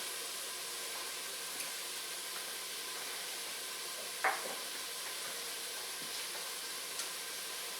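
A soft, steady sizzle of minced garlic frying gently in a pan to soften, a faint even hiss with a brief clink of a utensil partway through.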